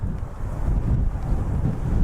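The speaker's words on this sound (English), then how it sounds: "So windy today." Steady wind buffets the microphone with a low, rumbling roar that gusts continuously throughout.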